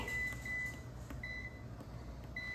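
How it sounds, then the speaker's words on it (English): Air fryer being switched on and set to 350 for air frying, giving short electronic beeps over a steady low background hum, with no talking. "let's go ahead and pop this in our air fryer. Turn it on, air fry, and this needs to be set to 350"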